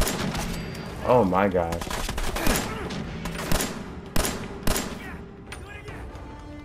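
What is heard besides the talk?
gunfire in the video game Fallout 4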